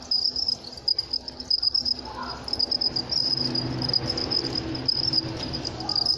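Crickets chirp steadily in a cricket farm breeding pen where several pens were damaged, a continuous high trilling close by, with no one talking.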